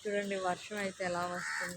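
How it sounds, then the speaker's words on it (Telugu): A crow caws in a rural yard by potted plants on a rainy day, repeated harsh calls heard close by and mixed with a person talking. "కాకి వచ్చి అరుస్తుంది"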